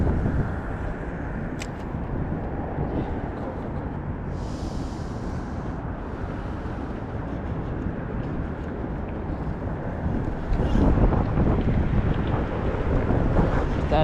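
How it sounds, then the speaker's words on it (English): A cold north wind blows outdoors by the water during freezing weather, a constant roaring buffet on the microphone that swells louder near the end, with no talking. "That north wind."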